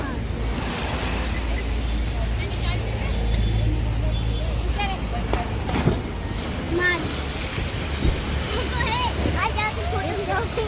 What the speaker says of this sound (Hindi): हम शूट कर रहे हैं लहर का, जो ऊपर लहर उठ रही है और पानी ऊपर आ रहा है।